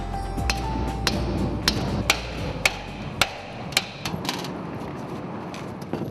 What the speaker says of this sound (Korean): 그릇 안에 덩어리를 빼내기 위해 망치질을 한다.